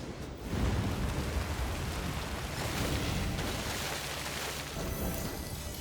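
Steady rain ambience from the Gwent card game, a continuous dense hiss of falling rain with a low rumbling undertone, loud and unbroken throughout with no other sounds.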